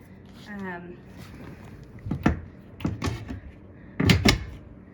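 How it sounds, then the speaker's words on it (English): Two old, dirty wooden cabinet doors thump shut in a few soft knocks and clacks with some rattle, at close range, while a voice talks in the background. "Looks like you have to close those at a specific timing."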